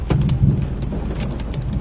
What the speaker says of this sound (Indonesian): Hujan air batu ni tu.